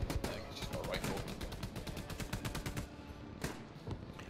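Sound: gunfire in the video game Hell Let Loose

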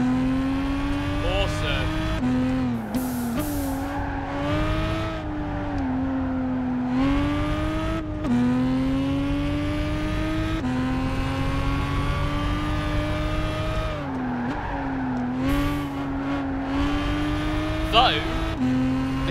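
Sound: race car driving on Tokyo track in video game Gran Turismo 5

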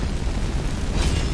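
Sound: fire spell blast in a video game

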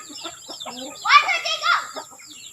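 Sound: hen with newly hatched chicks

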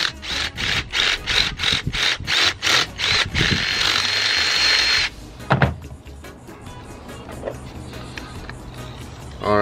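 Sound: drilling to enlarge hole for 3/4-inch pipe

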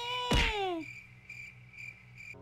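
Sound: crickets chirping in a horror video game

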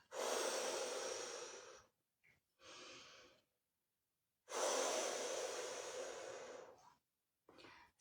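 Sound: breathing in through the nose and out through the mouth

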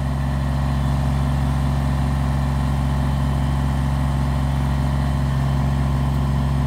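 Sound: tractor with backhoe engine idling

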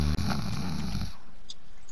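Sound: snoring

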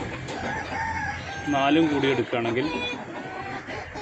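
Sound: native Kappiri hens clucking on a farm

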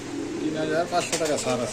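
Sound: pigeons cooing

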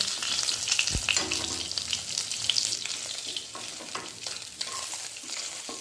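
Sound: fish frying in oil

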